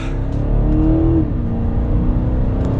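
A 2023 BMW X5 M50i SUV's engine revs up after a downshift to second gear while driving, with a loud, close rising engine and exhaust note that then settles into a steady hum.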